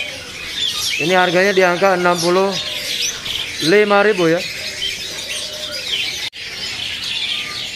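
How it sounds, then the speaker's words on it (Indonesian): Cicak wilis birds in a bird shop call in two bursts of repeated, harmonic squawking notes, loud and close, while someone talks over and between them. "Di sini ready juga burung cicak wilisnya nih"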